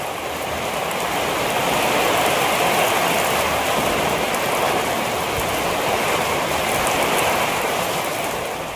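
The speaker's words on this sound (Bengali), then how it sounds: "বৃষ্টিটা দেখো একবার খালি।" A downpour of heavy rain roars on surfaces as a loud, constant wash of noise across the whole stretch, with no speech.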